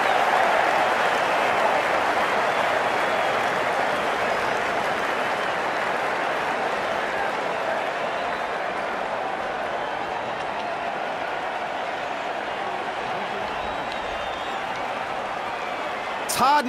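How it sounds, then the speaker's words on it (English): Stadium crowd applauding and cheering in the Cricket 19 video game during an India versus Australia match, a dense continuous roar of clapping that holds steady throughout. "The crowd are loving this."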